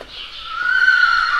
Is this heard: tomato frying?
no